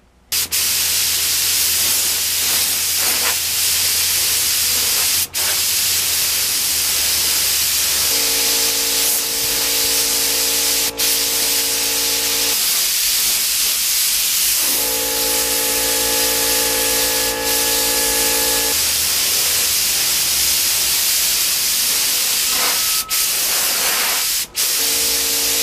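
A spray gun applies clear coat to carbon fiber Yamaha MT-09 motorcycle parts, producing a loud steady hiss that runs throughout, with bursts of a tonal compressor-like whine in the middle.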